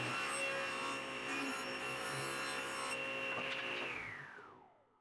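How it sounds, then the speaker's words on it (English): A table saw rips wood pieces to width for dividers in a BBQ grilling tray, with a loud, steady whining hum and cutting rasp close by, then the blade winding down to silence. "using my table saw, I ripped some pieces down to width"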